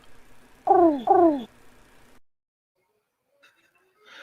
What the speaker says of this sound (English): Pigeons, 'cause they coo.